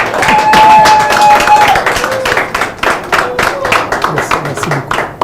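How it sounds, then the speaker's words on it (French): Audience applause at an award ceremony honouring the director general of the BVMAC stock exchange, a dense burst of clapping that fades gradually, with a sustained tone and some voices mixed in. "que je vous prie d'applaudir"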